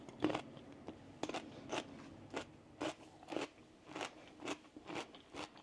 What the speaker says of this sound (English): I've just been like snacking on some cucumber while I've been making this.